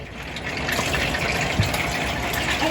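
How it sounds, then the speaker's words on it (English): Cooking oil pours into a pan while making Thai crab curry, a steady close liquid gush lasting a few seconds with no talking. "I'm gonna pour cooking oil into the pan."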